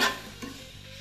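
Meat browning in a pan with peppers and garlic gives a brief stir and sizzle, loudest at the start and then settling into a soft, low frying hiss.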